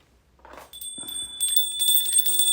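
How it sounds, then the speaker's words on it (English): A bell is rung once by hand to open a Venus Day gathering. Its bright, sustained metallic tone rings out close and clear, with a soft rustle before the strike, and it keeps sounding steadily to the end. "just ringing the bell"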